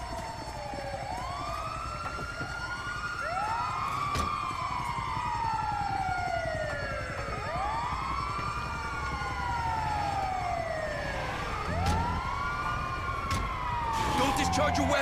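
Several overlapping ambulance sirens in GTA 5 wail, rising and falling repeatedly, fairly close and continuous, with faint voices and engine noise underneath.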